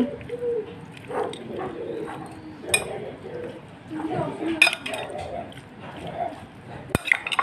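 Meat stirred in oil in a pan for momo filling, heard as soft scraping and clinking of a utensil against the pan with faint frying underneath, close, and a person talking over it.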